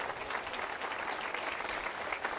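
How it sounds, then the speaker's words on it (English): An audience at a collegiate sailing women's awards ceremony claps in an even, continuous round of applause, moderately loud and without talk. "I'd like to give one more round of applause for Sperry for their support and for sponsoring this event."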